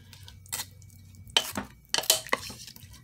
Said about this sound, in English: You're going to go ahead and give it a nice stir.